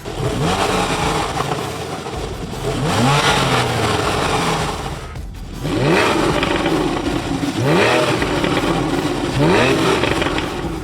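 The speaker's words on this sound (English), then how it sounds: "The car is equipped with a sport exhaust system, so just a tap of a button, it opens the valves and this thing gets louder" Porsche 911 with its sport exhaust valves open, the engine revving in loud repeated bursts with rising pitch sweeps and brief lulls between pulls, heard up close without talk.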